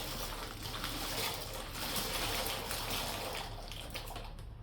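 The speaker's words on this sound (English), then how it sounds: "you want to add the whole bag of pasta in, nice and slow, so you don't splash the water on yourself" Dried pasta slid slowly into a pot of simmering water while making creamy chicken carbonara, giving a steady bubbling, splashy wash of water that stays close and fairly loud throughout.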